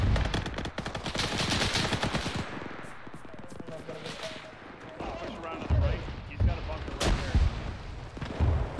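Machine gun fire on a D-Day battlefield in a Pointe du Hoc video game, with dense rapid bursts and heavy impacts, loud and continuous, while voices talk over the fighting.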